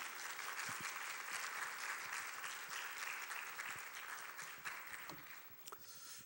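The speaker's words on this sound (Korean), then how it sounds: "나오실 때 뜨겁게 환영의 박수하도록 하겠습니다." A church congregation applauds in welcome for a visiting missionary preacher, a steady, dense wash of many hands clapping that carries on throughout at moderate, slightly distant volume.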